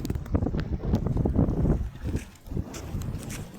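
A trawler boat on a river near an eroding embankment, a steady loud low rumble with wind buffeting the microphone and a brief dip partway through.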